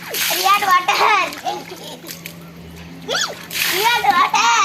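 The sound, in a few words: children splashing in water during water play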